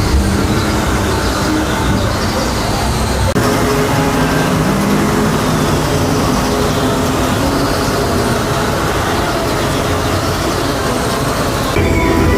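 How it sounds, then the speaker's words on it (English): A roller coaster train on the brake run at Universal Orlando, a loud, steady mechanical rumble with grinding, rail-like noise that holds constant throughout. "we have a train right there all wrapped up on the brake run"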